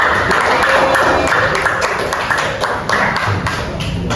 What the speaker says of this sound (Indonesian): Terima kasih tepuk tangan untuk Bang Gus sudah membacakan.